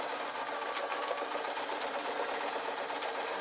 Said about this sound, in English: I'm just sewing along this line